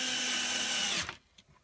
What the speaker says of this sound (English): So I've got 3 screws to go in here